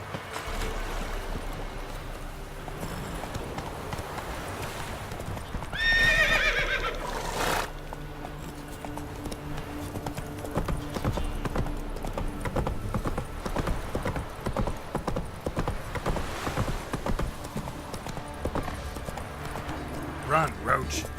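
A horse in The Witcher 3: Wild Hunt gallops with a loud, rapid clip-clop of hooves and lets out a neigh, with voices speaking over the steady galloping.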